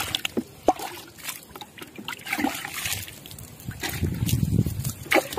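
Water poured from a bucket onto loose soil being mixed for a mud house, trickling and splashing in uneven spurts close by, with a few faint voices in the background.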